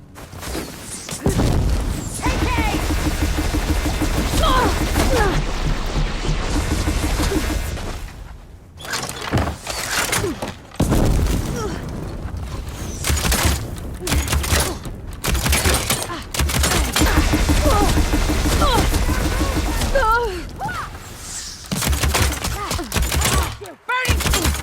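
A barrage of attacks rains down in Horizon Forbidden West, a long stretch of loud repeated blasts and crashing impacts, with shouting voices breaking in at times.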